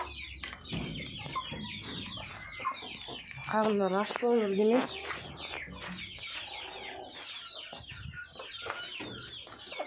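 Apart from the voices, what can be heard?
chickens clucking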